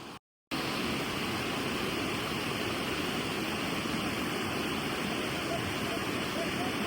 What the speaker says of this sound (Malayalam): നല്ല കുത്തൊഴുക്കുണ്ട് കേട്ടോ വെള്ളത്തിന്